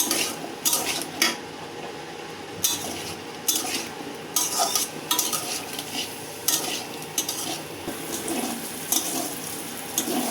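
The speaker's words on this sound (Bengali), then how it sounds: "আলুটাও ভেজে রান্না করবো" Potatoes frying in a pan are stirred with a utensil, producing repeated scraping and clattering strokes at an irregular rhythm over a faint background sizzle.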